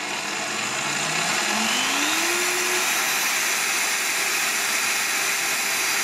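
Lidl Parkside PTBM 710 A1 benchtop drill press running steadily in first speed, a close, constant motor whine and hum with a pitch that climbs briefly as the speed settles, no voices.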